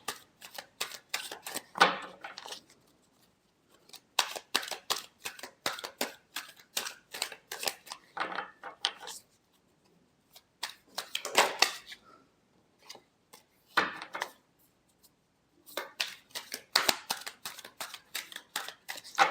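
Tarot cards are shuffled in repeated quick bursts of crisp riffling and flicking, close and fairly quiet, separated by short pauses.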